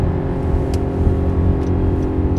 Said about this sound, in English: The one thing I was unsure was the noise, but as you can hear with that downpipe, that's not a problem anymore.